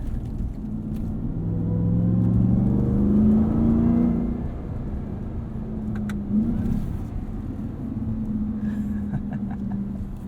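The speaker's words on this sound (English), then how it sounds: "Hearing that supercharged Hemi in a truck is just got to be the coolest thing." A deep, powerful supercharged Hemi V8 in a 2021 Ram 1500 TRX truck rumbles and whirs steadily nearby, with its pitch rising and falling as it accelerates over several seconds on the street.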